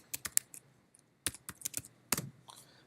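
Someone types a command in a terminal on a computer keyboard, quick uneven bursts of crisp key clicks with short pauses, close and fairly quiet, no voices.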